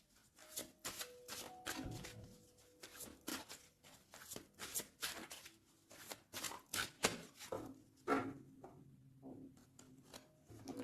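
A deck of tarot cards being shuffled and cut, with a rapid series of close, soft riffling flicks and slides that come in bursts, faint and intimate, with a low hum underneath.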